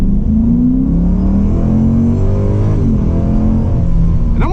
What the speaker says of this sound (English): It does sound like it's supercharged, doesn't it? It does. It's whining.